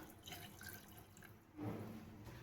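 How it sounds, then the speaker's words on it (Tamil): Water runs and splashes quietly, then a fuller stream pours in partway through, faint and close with no talking. "ஒரு பாத்திரத்தில் 1 கப் தண்ணி ஊற்றிக்கலாம்."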